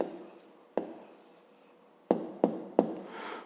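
Pen writing an answer by hand in a fifth-grade maths exercise: quiet, close scratching strokes on paper, broken by a few sharp taps of the pen, with no one speaking.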